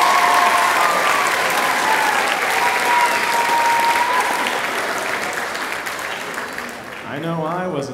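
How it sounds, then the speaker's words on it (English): A middle school spring music concert audience applauds three student soloists, a steady dense clapping that fills the room and holds strong throughout, easing slightly near the end as a voice begins talking over it. "Can you give those three solos one more round of applause?"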